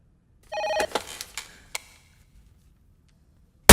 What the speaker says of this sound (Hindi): दिल्ली से फोन आया।